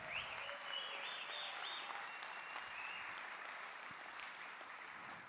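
An audience at a San Diego film screening preshow breaks into sustained applause, a thick, continuous clatter of clapping that holds steady and slowly eases off, with a faint tonal whine running beneath.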